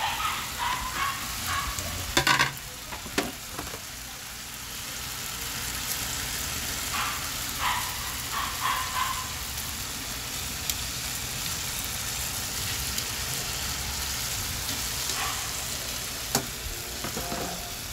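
Lauoy-style fish tails frying in hot oil in a pan, a steady close sizzle and crackle running throughout with occasional louder pops and stirring clatter.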